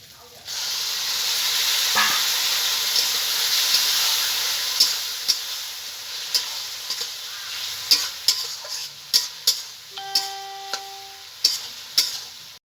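Ridge gourd stirred into a pan of cooked-down spice paste with oil, a steady near sizzle and hiss broken by a run of sharp spatula scrapes and knocks toward the end.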